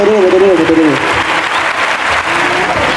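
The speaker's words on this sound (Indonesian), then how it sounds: "sekali tepuk tangan untuk drama musikal" A crowd applauds after a musical drama and cabaret staged by a village youth group, sustained clapping with a voice speaking over the start and brief tones fading at first.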